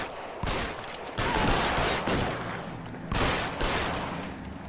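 Bursts of rapid gunfire in the video game L.A. Noire, loud and dense, with two sustained volleys separated by a brief lull, no talking over them.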